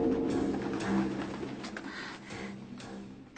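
A cartoon pigeon coos softly in a low, repeated throaty murmur over quiet background ambience. It is faint and close, lasts a few seconds, and has no talking over it.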